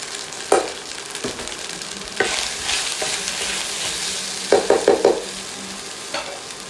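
Cooked rice being mixed with spices and salt in a pan over a soft, steady sizzle, with scattered spoon scrapes and a quick cluster of sharp knocks near the end, no voices.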